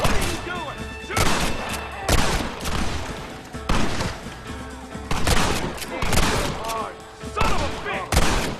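Gunfire crackles through a Red Dead Redemption battle, with dense bursts of rapid shots and heavy booms repeating loudly over several seconds while voices shout in the mix.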